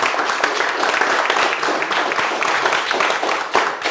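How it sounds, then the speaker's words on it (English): Audience applause at a renovation group meeting, a dense, steady wash of many hands clapping close by throughout, with some voices mixed in. "I appreciate the applause."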